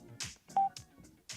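A single short electronic beep from a Cardo HJC Spirit helmet communication headset volume button rings out amid faint clicks and rustling, quiet and close.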